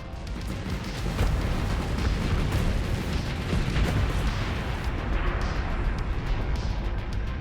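Heavy cannon fire from the Giga Cannon in a Brawl King tournament match against an Anubis, a dense, continuous barrage of booming blasts and bursts that stays loud throughout.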